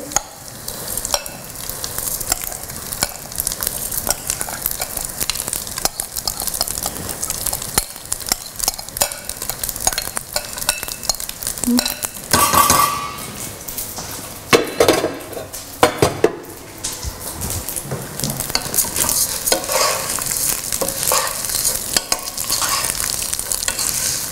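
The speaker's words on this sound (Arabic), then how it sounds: "انا رح احط هلا الرز اللي غسلته من قبل من اطيب الرز انه يتقلب مع الشعيريه المقليه" Washed rice being stirred with fried vermicelli in a metal pot, a busy continuous scraping and sizzling with frequent clinks of the spoon against the pan, close and loud, without any talk.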